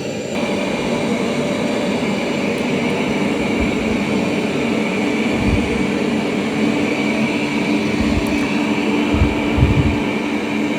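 A Roborock S8 Pro Ultra robot vacuum runs with a steady, even whirring drone for the full stretch, close and moderately loud, with a few faint bumps and knocks underneath.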